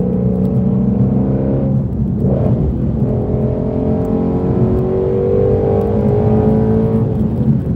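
Shelby GT350 engine revving hard toward its 8,250 RPM redline, a loud, sustained climbing engine note with rising harmonics, a brief dip near two seconds, then pulling steadily higher again with no talking.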